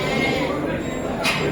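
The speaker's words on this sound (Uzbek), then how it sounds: "Kichkina baqaloq qo'ylar." Small fat sheep at a livestock sale bleat close by in a continuous loud call, with a brief rustle near the end.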